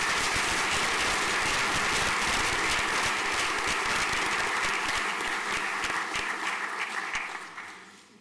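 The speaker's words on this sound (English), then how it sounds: "Large round of applause there, please." Sustained audience applause at a school prizegiving ceremony, dense steady clapping filling the hall for several seconds before tapering off near the end.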